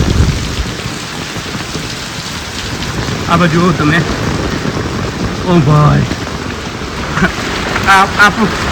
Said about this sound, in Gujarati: અને અહીંયા બધો વરસાદ ચાલુ થઈ ગયો છે.